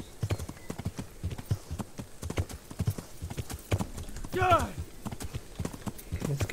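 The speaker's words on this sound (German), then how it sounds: "wir können mit dem Pferd nicht ewig sprinten" Horse hooves clip-clopping at a steady galloping rhythm in the medieval game Kingdom Come: Deliverance, loud and continuous, with a brief whinny near the middle and a voice talking over it.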